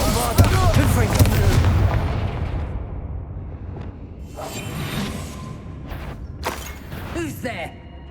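Spell explosions from the Hogwarts Legacy video game, Bombarda and Confringo, burst as a loud, close boom with a rumbling tail, followed by whooshes and several sharper blasts and crackles.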